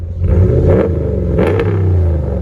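A 2016 RAM 1500 pickup's 5.7L HEMI V8 with Flowmaster Outlaw dual exhaust revs hard twice, deep and raspy through the exhaust, loud and close, settling into a throaty rumble between blips.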